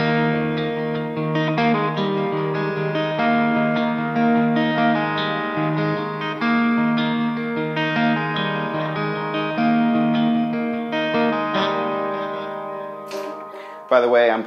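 An electric guitar plays a picking part through a Line 6 Helix patch, steady arpeggiated notes washed in chorus, echo and reverb, sustained and fairly loud throughout, with a brief noisy burst at the end.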